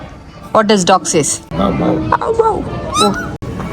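A voice imitates a dog's barking with several short, high yapping calls amid lively talk near a cat cafe.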